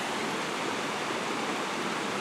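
A rain-swollen, muddy brown creek at Bearflat Trailhead rushes by in a steady, dense roar of flowing water, close and unbroken, with no voices.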